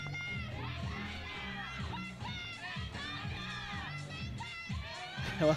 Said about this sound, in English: There's a bit of a battle going on in the crowd as well, as the Australian supporters try and out-shout and out-support the Spaniards.